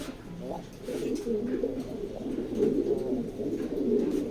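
Racing pigeons coo in soft, repeated throaty phrases close by, fairly quiet and continuous, with faint background noise.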